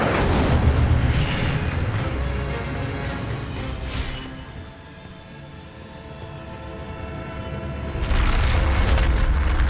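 An Incendio fire spell cast in Hogwarts Legacy, a loud roaring whoosh of flame that swells, then fades into a low rumble before another burst flares up near the end.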